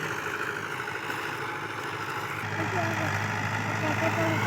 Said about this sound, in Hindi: ट्रैक्टर को देखो यार, इतना सुकून से चल रहा है